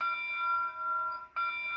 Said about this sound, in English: I'll start with the bell.